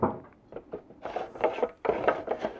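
A circular saw slides onto its guide rail with a series of quick scraping, rubbing clicks, close and fairly quiet, heard alone without talk.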